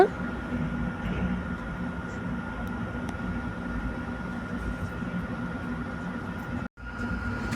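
The 17249 Tirupati-Kakinada Town express train runs with a steady, loud rumble and rattle heard from inside, continuous rail noise with a brief dropout near the end.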